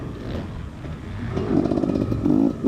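A motocross dirt bike rides an enduro section at the OXCR 2020 East Fork race, its engine buzzing close and loud, dipping briefly, then revving up twice in rising, rasping bursts.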